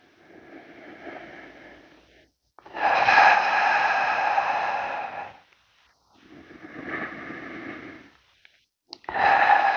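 Deep, audible breaths during an advanced Pilates floor exercise: a soft exhale, then a long, loud inhale, a quieter breath and another strong intake. Each is a close, airy rush set apart by brief silences, with no talking.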